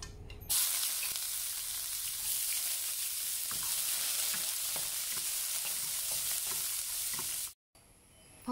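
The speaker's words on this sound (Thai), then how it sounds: "กระเทียมเหลืองแล้วใส่หมูลงไปนะคะผัดรวนให้หอมเลยนะคะ" Chopped garlic and ground pork sizzle loudly in a few spoonfuls of vegetable oil over high heat, a steady broadband fry with scattered stirring clicks, then a brief cut to quieter sizzling at the end.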